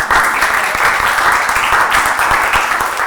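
Dense, sustained applause from a church congregation welcoming visitors, many hands clapping steadily at full volume throughout with no pause.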